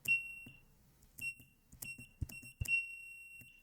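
A piezo buzzer driven by a Raspberry Pi Pico beeps sharply in short, uneven bursts, a piercing high tone repeated several times with some knocks and clicks between.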